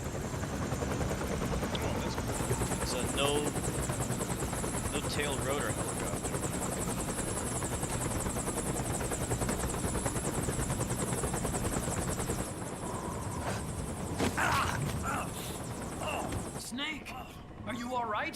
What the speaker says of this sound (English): It's a no tail rotor helicopter